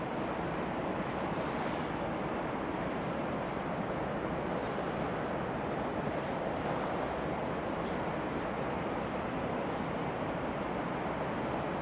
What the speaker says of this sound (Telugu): ఇది డ్యూయల్ వాటర్ ఫాల్